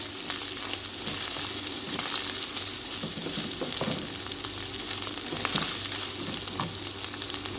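Minced meat sizzles steadily in a hot pan, a dense continuous crackle with occasional stirring scrapes.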